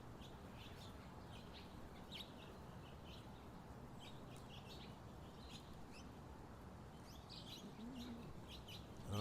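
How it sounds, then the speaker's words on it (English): European starlings call around a backyard bird feeder in the morning, a continuous chatter of short chirps and squeaks over a busy background hiss, with a few nearby notes standing out. "Oh yeah, more starlings."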